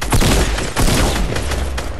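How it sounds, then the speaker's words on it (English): Hand cannon gunfire from a Fortnite match, a loud, dense volley of rapid shots filling the whole moment at close range with no talking. "I think it's hand cannon."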